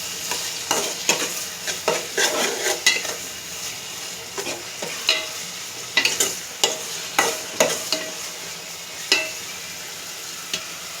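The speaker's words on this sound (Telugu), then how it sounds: "ఇప్పుడు ఇందులో అల్లం వెల్లుల్లిపాయ పేస్ట్ వేస్తున్నాను. ఇది ఒకసారి బాగా కలుపుకుందాం." A spoon stirs ginger garlic paste into onions frying in a pan, with repeated scraping strokes in an irregular rhythm over a steady sizzle, close and fairly loud, with no talking.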